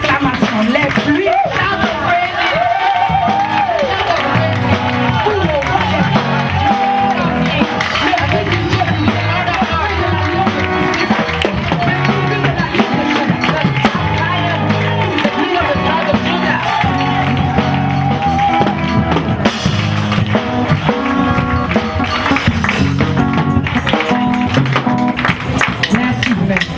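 A church congregation at a women's day service cheers and applauds in praise, a dense, steady roar of clapping and raised voices with shouts and babble running throughout.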